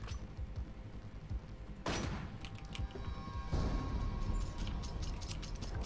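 Gunfire in the video game Resident Evil: two sharp, loud bursts of shots stand out over a steady, busy game soundscape, with a noisy tail after each burst.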